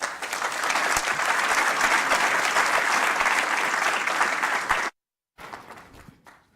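An audience at the Yale Innovation Summit 2018 bursts into sustained, loud applause welcoming keynote speaker Jonathan Rothberg, steady for about five seconds before cutting off abruptly, followed by a brief quieter tail.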